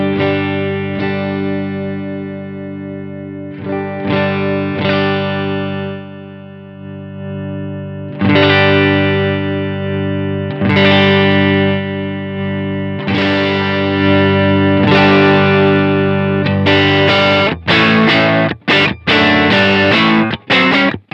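Electric guitar played through a Strymon Iridium amp modeler while the drive is swept, giving sustained chords and single strummed hits that grow grittier and more distorted, ending in choppy, staccato stabs, loud and close with no talking.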